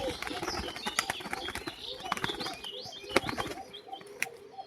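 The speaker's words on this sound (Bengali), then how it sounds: "এই হচ্ছে কবুতর" Giribaj pigeons coo and chatter close by, with sharp bursts of wing flapping scattered throughout.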